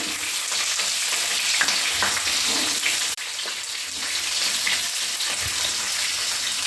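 Garlic and chopped chilli frying in a pan with cumin seeds for an ivy gourd fry: a steady, close, dense sizzle with a few stirring scrapes, and no talking.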